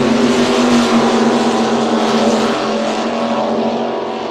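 Class 1 offshore super boats roar past while racing on Lake Macquarie, a very loud, dense engine drone with a steady pitch, easing slightly as they move away, with no talk over it.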